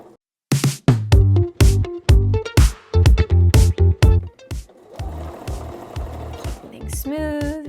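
Sewing machine stitching a seam about a quarter inch from the raw edge of a pencil skirt, in short loud close bursts of rapid needle chatter separated by pauses, then a steadier softer run of stitching at the end.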